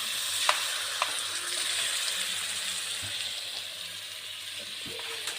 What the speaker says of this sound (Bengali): একসাথে ভালো করে ভেজে নিতে লাগবো